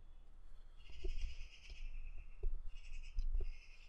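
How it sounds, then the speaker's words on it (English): Unhappy birds call outside, faint and somewhat distant, a few strained bleating cries in short bursts over a low background rumble with thumps. "there's some birds sounding really, really unhappy out there"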